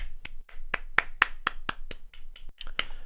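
A single person claps their hands about a dozen times in an even rhythm, close and fairly quiet, with brief pauses between a few of the claps.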